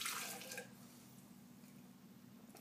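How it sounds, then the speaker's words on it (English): Hot water is poured out of a pour-over coffee setup into a sink, a faint splashing wash that fades into a low steady trickle. "get rid of the hot water"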